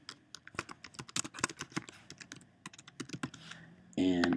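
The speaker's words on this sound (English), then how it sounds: "So we're going to type that in." Quick, uneven clacking of computer keyboard keys typed in short bursts, close and crisp, ending in a brief louder clatter.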